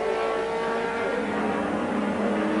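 BMW M3 2.3 litre touring race car lapping Silverstone in wet conditions, a loud, steady high-revving engine wail with dense broadband noise throughout.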